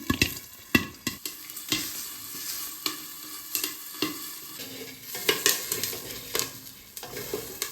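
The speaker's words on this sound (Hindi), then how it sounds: "तो आज हम कोशिश कर रहे हैं घर में अपने खेत के मक्के के फुल्ले बनाने की, मतलब पॉपकॉर्न बनाने की" Homegrown corn kernels popping into popcorn in desi ghee in a pan at home, with scattered sharp pops and crackles over a soft sizzle.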